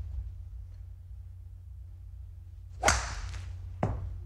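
A golf club swing striking the ball on a course, heard as a sharp, loud whip-like crack followed by a quick decaying swish, then a second fainter sharp hit about a second later, over a low steady background rumble.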